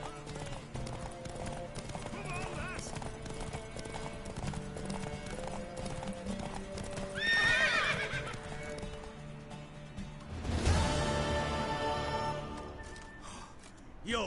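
A horse in a video game neighs and whinnies twice, loud and close, over steady clip-clopping hooves and a continuous musical backdrop.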